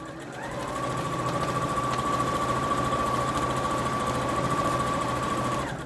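Sewing machine running steadily as it stitches one continuous straight seam along a fabric scrub bag, a constant whirring hum with a high tone that holds evenly from start to finish.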